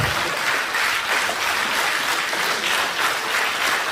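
An audience at a New Year and Christmas get-together claps steadily and densely for about four seconds, a close, continuous wash of many hands with no voices standing out.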